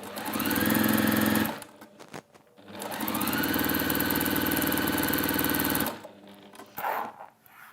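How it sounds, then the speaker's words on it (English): A sewing machine runs in two sustained bursts of steady, rapid stitching, with a short pause between them, then stops, leaving quieter handling noises. "Gemma, can we go on the sewing machine"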